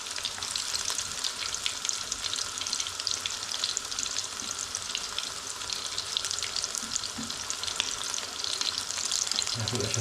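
Fish and onion pakora frying in hot oil, a steady, dense sizzle and crackle that holds at an even loudness throughout, close by with no talk over it.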